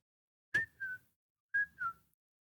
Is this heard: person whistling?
yes